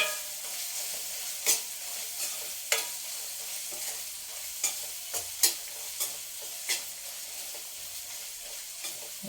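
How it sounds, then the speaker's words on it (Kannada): Egg rice masala stirred and fried in a pan, a continuous close sizzle broken by sharp scraping and clacking spoon strokes at irregular intervals, no talking. "ಅದನ್ನು ಸ್ವಲ್ಪ ಮಿಕ್ಸ್ ಮಾಡಿ ಅದು ಸ್ವಲ್ಪ ಹಸಿ ಸ್ಮೆಲ್ ಹೋಗೋವರೆಗೂ ಬಾಡಿಸ್ಕೊಳ್ಳೋಣ."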